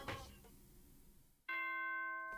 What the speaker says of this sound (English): Ding dong, bing bong.